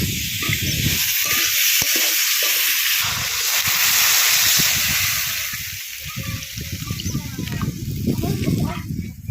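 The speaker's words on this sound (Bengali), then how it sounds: "এবার জল দিয়ে দেবো" Water poured into a pan of sautéed potatoes for a light fish curry, giving a loud, steady hiss and sizzle with bubbling crackle throughout.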